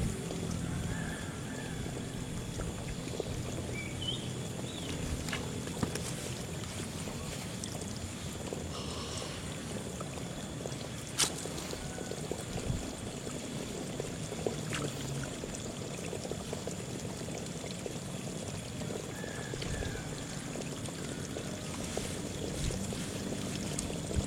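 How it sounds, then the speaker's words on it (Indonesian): Strong wind buffets a small fishing boat at sea near a fish aggregating device, a steady broadband rush with water sloshing and occasional knocks, continuous and fairly loud throughout. "Padahal ini angin kenceng banget ini."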